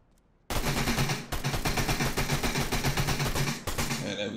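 Sustained, dense SMG fire in a Fortnite-style video game, a loud rapid rattle of shots that starts abruptly and runs for several seconds with brief breaks.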